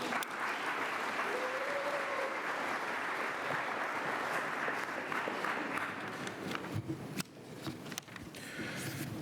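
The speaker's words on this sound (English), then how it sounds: "Give yourselves a round of applause again." Applause from the audience at the Wheaton College Honors Convocation: dense, sustained clapping from a large crowd, steady for most of the clip and thinning slightly toward the end.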